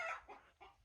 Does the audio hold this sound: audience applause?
no